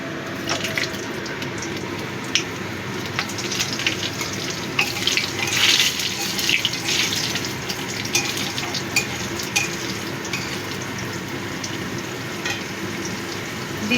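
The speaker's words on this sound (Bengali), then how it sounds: "এই 2 মিনিট মতো ভেজে নেব" Diced potatoes and sweet potato fry in a pan with spice seeds for Bengali dudh shukto. A steady, moderately loud sizzle runs throughout, with a continuous hiss, occasional sharp crackles and a brief stir midway, no voices.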